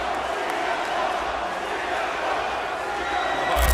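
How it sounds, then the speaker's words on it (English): Wrestling arena crowd roaring in a continuous, dense wash of cheering and noise, loud and steady throughout, swelling slightly at the very end. "the crowd roaring"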